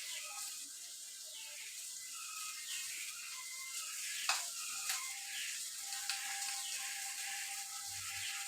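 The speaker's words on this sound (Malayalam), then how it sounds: "നല്ലപോലെ തിളച്ച് നല്ല എണ്ണയെല്ലാം തെളിഞ്ഞ് വന്നിട്ടുണ്ട്" Kerala fish curry simmering in a covered pan, a soft continuous bubbling and hiss with faint scattered pops, quiet and steady throughout.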